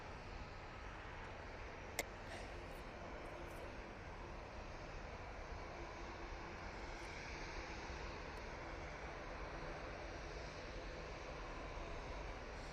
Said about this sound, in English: There's a Ryanair, just rotating